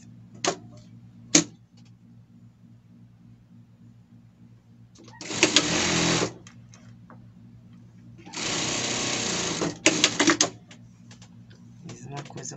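A sewing machine stitches a trouser leg hem in two bursts of rapid mechanical whirring, about a second and two seconds long, separated by quiet pauses with occasional light clicks.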